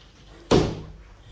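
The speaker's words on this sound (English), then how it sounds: "This door opens" A large shower's door opening gives a single sudden thunk that decays over a fraction of a second, loud and close in a quiet room.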